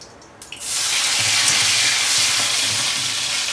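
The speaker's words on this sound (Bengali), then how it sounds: "তেল তো গরম হয়ে গেছে, একটা শুকনো লঙ্কা দেবো ফোড়নে" Dried red chili dropped into hot oil for tempering: a soft clink, then a sudden loud sizzle that surges up and stays as a steady, close frying hiss.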